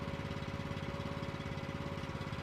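A faulty power drill runs steadily and loudly for the whole stretch, giving off a buzzing, pulsing mechanical drone with a constant whine, and no voices come through over it.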